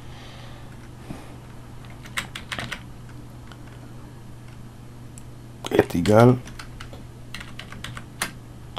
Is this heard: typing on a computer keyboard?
yes